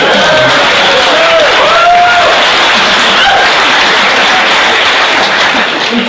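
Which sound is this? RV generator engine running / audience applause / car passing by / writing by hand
audience applause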